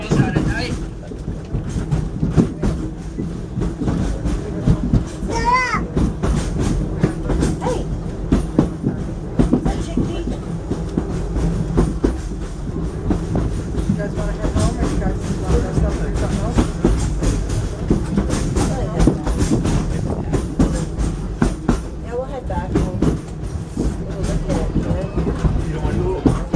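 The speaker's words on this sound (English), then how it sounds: "If you find this train ride too slow for you" The Wildlife Express steam train at Disney's Animal Kingdom rolls along in a steady rumbling ride with continuous clatter from the cars, while a narrator talks over the train noise throughout.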